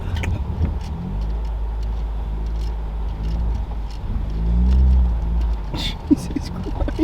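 A car jolts along a rough, unpaved off-road track in the Great Smoky Mountains, its engine a steady low rumble with bumps and rattles throughout, while people inside talk and exclaim over it.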